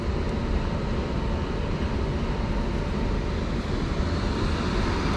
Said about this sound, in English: That's their exhaust fan, so I'm sorry about any noise.